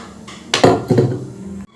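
A wok set down on a stove with a clatter of metal, then mustard oil poured in, giving a short burst of pouring and sizzling close up, fading to a low hiss.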